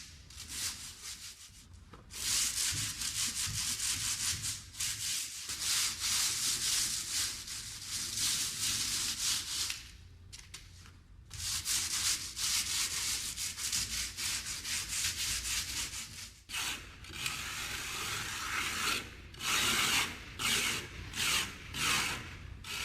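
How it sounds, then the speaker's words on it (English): Close, steady rubbing strokes of sandpaper over a wet cement base coat on shower cement board, running in long bursts with a few short pauses and no talking. "we don't have too much dry to sand. The wet, if you sand on it, it doesn't become airborne in quite the same way."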